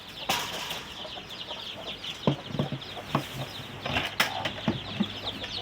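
Young chickens cluck and murmur close by while feeding on rice mixed with feed, amid scratchy rustling and occasional wing flutters, a busy, continuous barnyard bustle with no voices.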